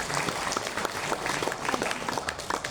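Audience clapping at an ICMI Banten inauguration ceremony, a brisk burst of many hands applauding together, fairly even and moderately loud for a few seconds.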